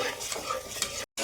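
Sugar syrup simmering in a pan while a spoon stirs it, heard as a short, close, soft bubbling hiss with stirring scrapes before a brief cutoff near the end.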